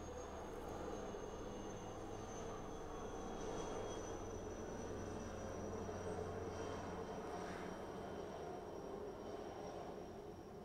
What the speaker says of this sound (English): There's an airplane going overhead, relatively low to the ground.